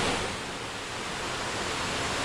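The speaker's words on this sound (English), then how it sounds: "waterfall number 5, Lower North Falls. Nice and wide," Lower North Falls in Oregon, a wide waterfall with only a short drop, pours as a steady, dense broadband roar that stays constant and fairly loud throughout, with no voices over it.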